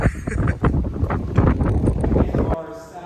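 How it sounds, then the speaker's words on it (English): Strong night wind on Alcatraz Island in San Francisco buffets the microphone in loud, rough gusts that pulse and roar for most of the clip, then drop away abruptly near the end. "It's so windy over here."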